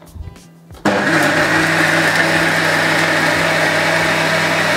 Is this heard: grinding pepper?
yes